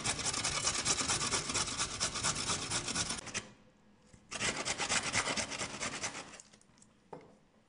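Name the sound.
grating carrot on coarse side of grater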